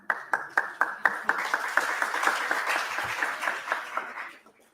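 Audience at a brain health congress claps to welcome a speaker, distinct hand claps at first quickly merging into full applause that holds steady, then trails off with a few last claps.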